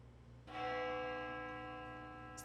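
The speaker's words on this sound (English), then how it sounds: "The sound of a bell echoes in my ears." A single bell struck once in the video game Death Mark 2 rings out clearly, its sustained metallic tone slowly fading over two seconds with no voices.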